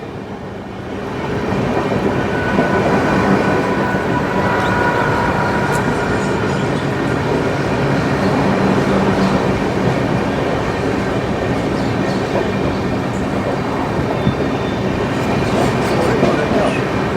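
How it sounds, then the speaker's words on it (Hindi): A long-distance Indian passenger train on the Delhi to Ranchi Jharkhand Sampark Kranti run rolls through Govindpuri station without stopping, a loud, continuous rumble and rattle of wheels heard from on board. "ये गोविंदपुरी स्टेशन स्किप हो रहा है"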